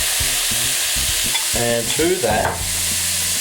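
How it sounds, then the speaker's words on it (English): Marinated beef patties for whiskey burgers sizzle loudly in a frying pan, a steady dense hiss close by with clunks of handling, while a voice speaks briefly over it. "now I'm just going to transfer these into a frying pan"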